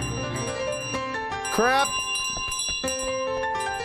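A handheld bell jingles in bright, quick rings as the goose carries it in Untitled Goose Game, over game music, with someone speaking.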